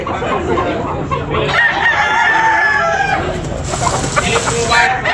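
A rooster crows amid a busy outdoor chicken market, with a seller talking loudly over it and other fowl clucking nearby.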